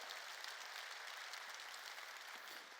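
A church congregation applauds to give glory to God during a sermon, a steady broadband wash of clapping that holds at even strength throughout before easing slightly at the end, with no talk over it.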